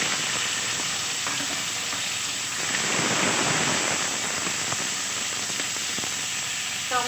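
Small cut potato pieces and tomato fry in a pan with a steady, close sizzle and hiss, broken by occasional stirring scrapes; no one speaks.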